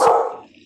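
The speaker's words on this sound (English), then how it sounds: "I'm sorry if you can hear that. That's my dog." A single sharp dog bark rings out close by, then decays quickly into silence.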